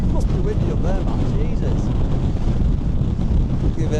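Strong wind batters the microphone on an exposed mountain summit in the Lake District, a loud, constant rumbling roar with gusty buffeting throughout.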